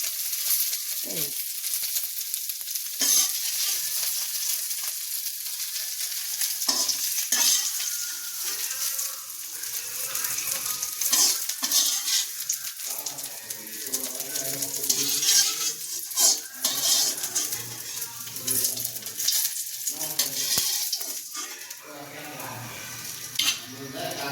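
Khichuri being stirred in a pan as it cooks, repeated scraping and clinking of a spoon against metal over a low frying sizzle, close by, with some talk in between.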